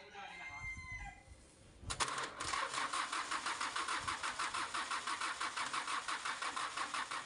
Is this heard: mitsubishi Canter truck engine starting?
yes